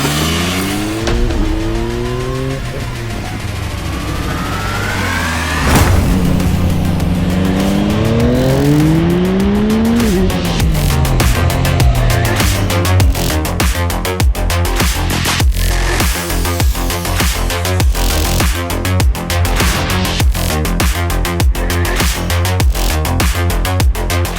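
Yamaha MT-09 Y-AMT motorcycle ridden in its automated-shift mode, engine loud and close throughout, rising revs stepping through repeated gear changes and then holding a steady, buzzing cruise.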